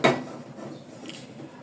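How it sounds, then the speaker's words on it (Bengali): A metal kadai is set down on a village clay stove with one sharp clank and a short rattle fading out, close and alone. "এখন চুলার মধ্যে একটি কড়াই বসাই দিব"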